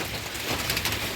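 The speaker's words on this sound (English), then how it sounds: "It's just been non-stop raining." Steady non-stop rain falling outdoors, a continuous even hiss of drops without pause, moderately loud and close.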